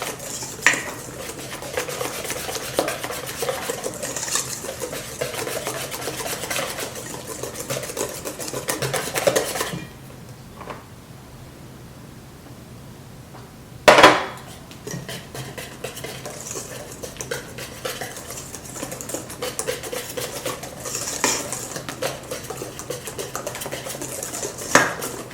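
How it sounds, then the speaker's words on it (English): Flour is whisked into fruit cake batter in a bowl with a steady clatter of utensil against the bowl, interrupted by a quiet pause near the middle and a sharp knock before the scraping resumes. "add the flour little by little while whisking or beating it together"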